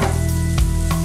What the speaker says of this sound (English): Now we have the bacon, we're going to add the shallot